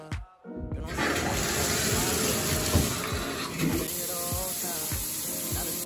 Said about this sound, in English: So now I'm just gonna take a quick shower.